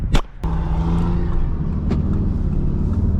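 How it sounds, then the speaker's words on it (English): A 2019 Audi TT S with a turbocharged four-cylinder engine drives along, with a steady close interior engine drone and road rumble after a couple of sharp knocks at the start. "so driving the Audi TT S"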